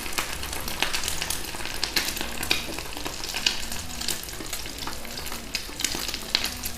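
Shami kababs fry in a little oil, a continuous close sizzle broken by frequent sharp crackles and pops that recur irregularly throughout, with no voices.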